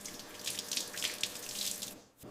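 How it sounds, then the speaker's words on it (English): Cherries being washed under a running tap, a steady close splash of flowing water into a sink that stops abruptly near the end, then resumes briefly. "Washed by the cool water, the dust of the fields is gone, leaving only the shine."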